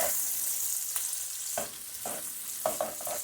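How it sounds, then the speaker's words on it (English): Onion and bell pepper sizzle steadily in a pan, a bright continuous crackle broken every half-second or so by soft scraping stirs, close and without talk. "So that's our onion and our bell pepper. I'm going to let that cook for a little bit."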